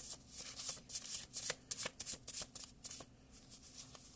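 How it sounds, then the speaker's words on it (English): Hermetic oracle cards are shuffled by hand in a quiet room, a quick series of soft riffling flutters and taps, close and fairly faint, with no talking. "Let's pull one more Hermetic card."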